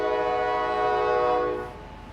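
A loud train horn sounds a sustained, steady blast close by for about a second and a half, then cuts off, leaving a low rolling rumble of the passing train.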